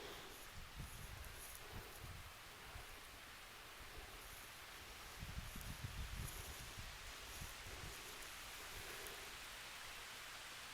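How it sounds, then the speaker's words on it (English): Light rain falls along a lake path at Sky Lake, a faint, steady hiss of drops with soft low rustles, heard alone and without voices. "Can you hear the rain?"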